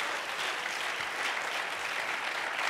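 A church congregation clapping their hands together in worship, a thick, continuous wash of many hands at steady loudness with no break.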